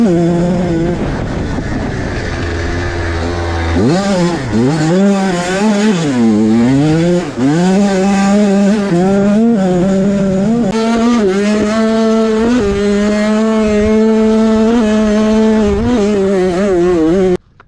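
A motocross bike revs hard, running fast around a backyard, its engine loud and near throughout with rising and falling pitch as the throttle opens and closes.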